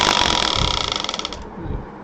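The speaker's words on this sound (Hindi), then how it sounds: "नीचे पैडल दबाएंगे और ये मशीन चल पड़ेगी" A foot-pedal sewing machine runs with a fast, even mechanical clatter, then slows and stops after about a second and a half, leaving low rumbling.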